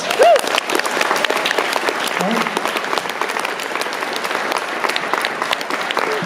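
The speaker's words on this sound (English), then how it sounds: "Let's give him a round of applause." Audience at a speakers-series event at MacEwan University in Edmonton breaks into sustained applause, dense clapping filling the room with a few voices over it.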